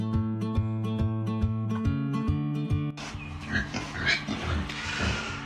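Pigs grunt and squeal close by, a run of repeated rhythmic calls giving way to a noisier, messier jumble of snorts and squeals.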